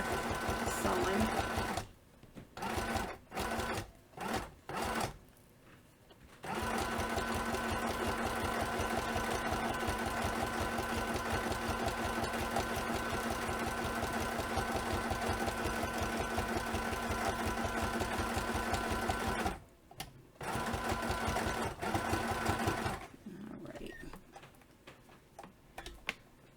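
A sewing machine stitches fabric in long steady runs, its rapid mechanical clatter continuous for most of the stretch, broken by a few short stops and restarts near the beginning and end.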